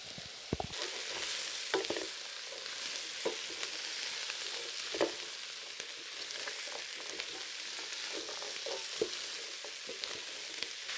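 Diced butternut squash frying with spices in a pot for Mexican-style soup, a quiet, even sizzle running throughout, broken by occasional clicks and taps of a spoon against the pot.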